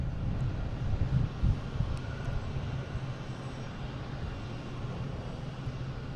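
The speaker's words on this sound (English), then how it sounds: "Now we get this Cape Air here, making a racket" A Cape Air propeller plane's engine roars at Boston Logan airport, a steady broadband drone heard from a distance with wind noise, no voices.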